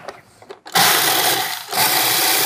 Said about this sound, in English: When you're grinding almonds or any kind of nuts, make sure that your blade of your food processor is sharp.